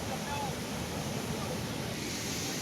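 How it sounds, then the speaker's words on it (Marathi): Steady roar of the flooding Madar river at Narkhed, India, a constant broad wash of surging floodwater, with faint wind noise and no clear voices. "तुम्ही पाहू शकता पुरांच्या या लाटा पुरांचा हा आवाज"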